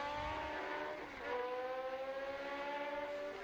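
Classic race cars at the Estoril circuit, engine note climbing then dipping and rising again as cars work through the hairpin, a clear harmonic whine at moderate distance.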